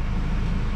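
A Ford Everest 2.0 BiTurbo engine runs on a dyno, giving a steady, dense low rumble that holds constant and close throughout, with no speech.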